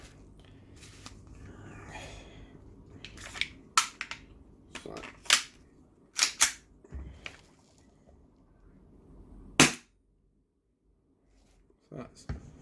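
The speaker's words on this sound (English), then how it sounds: "So let's give it a, got my trusty shoe to shoot into." A Tokyo Marui M&P 9 airsoft pistol fires into a shoe indoors, several sharp, snappy cracks spaced irregularly and standing out loudly above a low background, with a brief gap of near silence before a final pair of shots.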